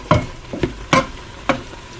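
A spoon stirs Italian herb blend into ham and bean soup in an Instant Pot pressure cooker. Four distinct scraping strokes sound close and unevenly spaced, with no speech.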